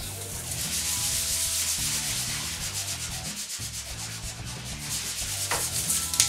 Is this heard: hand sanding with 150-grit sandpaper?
yes